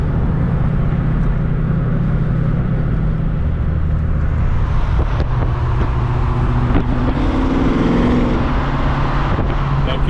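A car's engine roars as it accelerates hard on a highway near Vancouver, a loud, steady drone with heavy wind rush and a rising engine tone toward the end.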